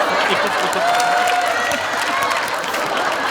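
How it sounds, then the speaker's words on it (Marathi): Audience applause at a Marathi comedy show taping, a dense sustained clapping wash with some cheering, fairly loud, with a brief tonal squeal and faint voices underneath. "जोरदार टाळ्या वाजवा."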